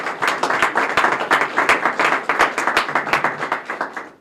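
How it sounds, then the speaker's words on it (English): Applause from an audience at the ribbon cutting for an adult day health center, steady rhythmic clapping from a modest crowd of people in a room, close and fairly loud throughout. "a little round of applause"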